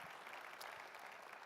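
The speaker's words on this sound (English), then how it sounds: "you can give him a round of applause" A conference plenary audience applauds a guest coming on stage, a short, faint, dense burst of clapping from a distant room.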